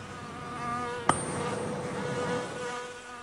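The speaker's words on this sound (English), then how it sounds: "Now watch the bee do the same, hitting the middle C note with the beat of his wings and unlocking the pollen." A bee buzz-pollinating a flower, its wing vibration giving a steady, tonal buzz near middle C that holds close and fairly loud for several seconds, with a brief sharp tick near the start.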